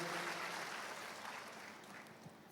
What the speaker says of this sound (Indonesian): Tepuk tangan yang meriah bagi Kristus Yesus Tuhan.